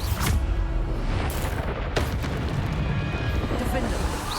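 Bombarder spell blasts from the Hogwarts Legacy video game, booming explosive impacts layered over dense, continuous game noise and a voice, loud and busy throughout.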